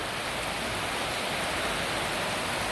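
Quick morning rain falling in Pafos, Cyprus, a steady, dense hiss of drops that holds at an even level throughout with no voices.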